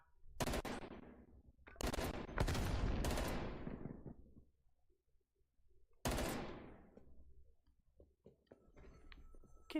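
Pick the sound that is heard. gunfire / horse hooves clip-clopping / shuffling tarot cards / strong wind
gunfire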